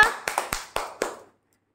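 A short burst of about five crisp hand claps, close by and evenly spaced, during a fruit-and-vegetable matching game at home, ending abruptly in silence.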